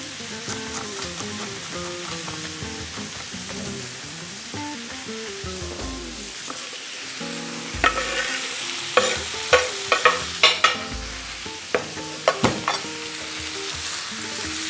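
Garlic and green beans stir-frying in a pan, a continuous sizzle with music over it and a run of sharp clacks from stirring near the end.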